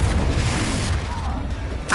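An Incendio fire spell cast in a Hogwarts video game bursts as a loud, close roaring blast of fiery whoosh that rumbles on and fades, with a sharper flare at the end.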